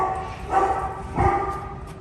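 Dogs in an animal shelter give two short, moderately loud barks about half a second apart over a low background hum.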